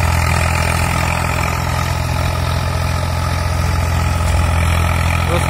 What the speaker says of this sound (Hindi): वरना ट्रैक्टर बिल्कुल लोड फ्री है और 0 RPM ड्रॉप है ट्रैक्टर बिल्कुल।